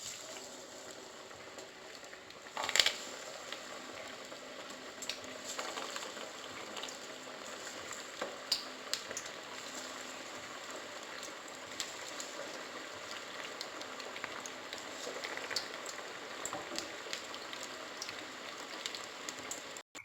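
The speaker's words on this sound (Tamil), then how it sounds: "ஒவ்வொரு பேட்சாக எண்ணெயில் போட்டு எண்ணெய் சூடானதும் பொரித்து எடுத்துடலாம்" Masal vada deep-fry in moderately hot oil over a low flame, giving a faint, steady bubbling crackle with one sharper pop early on.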